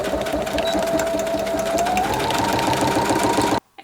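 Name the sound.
sewing machine straight stitch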